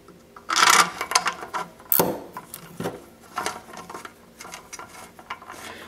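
A bolt being reinserted and tightened on a Briggs and Stratton carburetor, giving close metallic clicks, a sharp clank and scraping ratchet-like turns in short bursts.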